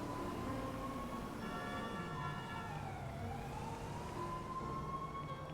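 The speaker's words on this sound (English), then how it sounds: "I hear all these police sirens" Police sirens wail in the distance in a video game, a rising and falling tone under a low road rumble, with no voices.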